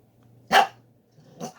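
An indoor dog barks at snow sliding off outside, one sharp close bark followed by a softer second bark and growl, with no talking.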